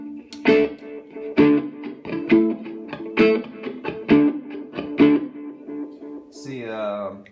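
Electric violin plucked in a steady series of sharp, bright notes about one per second, ending with a bowed swell.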